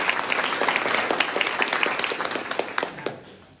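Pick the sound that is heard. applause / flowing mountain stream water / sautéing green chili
applause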